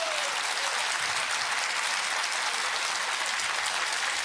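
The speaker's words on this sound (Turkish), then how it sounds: "alkışlamanız gerekiyor" An audience at an amateur Turkish folk music festival applauding a folk choir, dense sustained clapping that stays loud and even throughout with no pauses.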